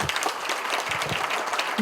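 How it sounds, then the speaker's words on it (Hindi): An audience breaks into applause, a brief, continuous patter of many hands clapping at moderate loudness, evenly sustained with no voices on top. "शानदार तालियां चाहूंगा एल्टोस इंटरप्राइजेस लिमिटेड"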